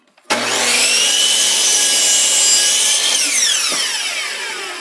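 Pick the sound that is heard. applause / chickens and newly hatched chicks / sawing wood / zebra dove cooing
sawing wood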